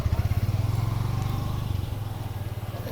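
A motorcycle engine putters steadily on a village road, its rapid pulsing growing slightly quieter as it pulls away, with faint background noise.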